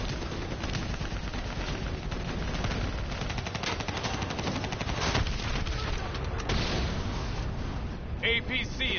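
Steady gunfire is aimed at a VTOL in a shooter game, a dense, continuous mix of machine-gun bursts and booming heavier weapons under voices speaking over the combat.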